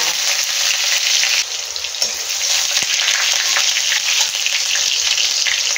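Crushed garlic cloves fry in hot oil that already holds nigella seeds, giving a loud, continuous sizzle that stays even and close for the whole stretch, with no talking.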